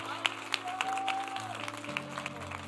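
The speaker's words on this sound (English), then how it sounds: "Clap those hands" A church congregation claps along during a lively worship service, crisp rhythmic claps at a steady beat under sustained organ-like music tones.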